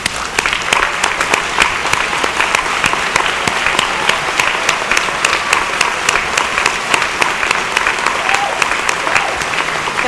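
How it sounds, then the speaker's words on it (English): A graduation audience at Del Mar College applauds parents and family, a large crowd clapping continuously with distinct individual claps cutting through a steady wash, with some voices underneath. "let us give them a big round of applause"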